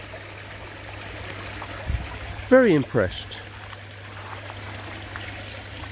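Water pours over the top of a filter in a steady, low trickling wash, with someone briefly speaking over it partway through.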